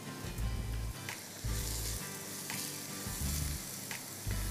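Onions sizzle gently in a frying pan as they soften for sloppy joes. A steady, close frying hiss runs throughout, with repeated stirring scrapes and no voices.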